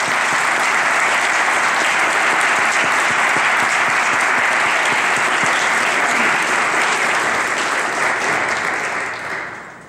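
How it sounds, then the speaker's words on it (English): Loud, sustained audience applause for nonprofit literacy organization staff during a speech, dense clapping from a large crowd that holds steady and then tapers off at the end. "I'm going to give them a round of applause."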